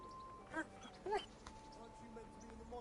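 A pet dog in Kingdom Come Deliverance gives two short, high whimpering yips about half a second apart, close by and fairly faint, over a quiet background.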